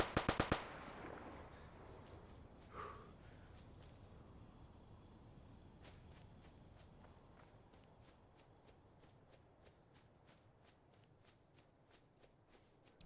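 A quick burst of gunshots aimed at bighorners in the video game Fallout New Vegas, sharp and close at the start, followed by faint footsteps and sporadic ticking over quiet game ambience.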